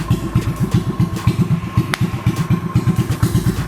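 A 125 cc engine fitted to a low rider bicycle runs at idle close by, giving a steady, rapid low thumping with a faint clatter on top and one brief sharp click partway through.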